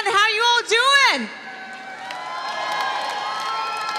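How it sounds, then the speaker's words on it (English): A pageant audience at the Mrs Earth 2015 event cheers and whoops loudly, with high excited shouts for about a second before the noise drops to a softer, continuing crowd murmur. "We have a very happy crowd tonight."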